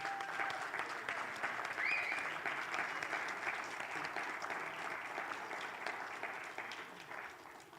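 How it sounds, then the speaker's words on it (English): An audience at a Pittsburgh political conversation event breaks into strong, continuous applause that holds steady, then tapers slightly toward the end, with no talk over it. "if you want to give really forceful applause right now"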